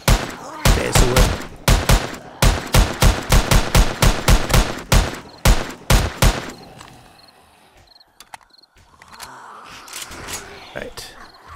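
Gunshots in 7 Days to Die: a long run of loud, evenly paced single shots, about a dozen in quick succession, then a quieter stretch of ambient noise with a few faint thuds and some talk.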